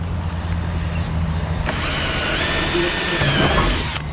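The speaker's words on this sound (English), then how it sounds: "I'm gonna drill the holes through now." A close, loud power drill spins up and bores steadily for a couple of seconds, its high whine holding level before cutting off.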